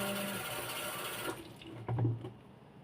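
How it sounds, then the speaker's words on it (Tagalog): Water streams steadily into a plastic spray bottle with a hissing rush, then stops, followed by a few small splashes and clinks nearby. "Ito yung aking spray. So, lalagyan ko siya ng tubig."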